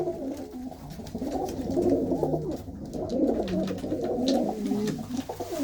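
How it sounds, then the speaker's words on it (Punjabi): Low, throaty cooing from several pedigree domestic pigeons, including white females, overlapping continuously in soft rolling calls, close by and steady throughout. "ਇਹ ਕਬੂਤਰੀ ਹੈ ਚਿੱਟੀਆਂ ਦੀ ਕਬੂਤਰੀ ਹੈ"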